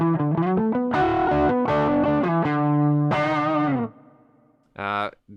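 Electric guitar played through a Zoom GFX 707 multi-effects unit with reverb and gain, loud, distorted melodic phrases ringing out, then a brief pause and one short final chord.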